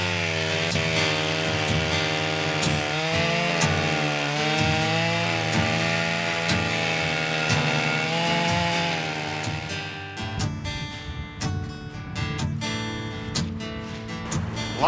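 A freshly sharpened chainsaw bites steadily into wood, its engine note wavering as the chain cuts, then breaking into rougher, choppier bursts near the end as the cut finishes.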